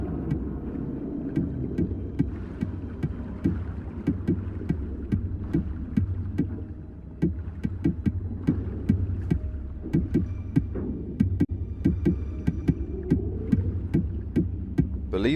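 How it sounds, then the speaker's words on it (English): Rapid tapping on an underwater hatch in GTA 5, a steady stream of faint metallic clicks over a deep, throbbing underwater drone and hum, with no voices. "this is Morse code, the tapping on the hatch, for let's go bowling"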